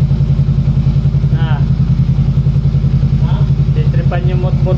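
A motorcycle engine idles close by with a loud, steady low throb and even pulsing rhythm, while people talk briefly over it.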